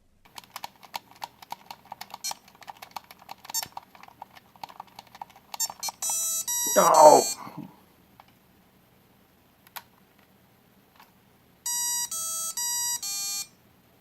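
Small, thin electronic bleeps and rapid clicking from a Tiger handheld LCD Ninja Gaiden game, then a short burst of a voice, a pause, and a closing run of stepped beeps as the ending tune.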